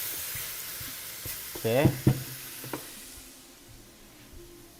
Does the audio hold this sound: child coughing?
no